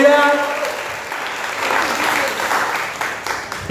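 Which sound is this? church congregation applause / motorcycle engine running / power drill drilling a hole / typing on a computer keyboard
church congregation applause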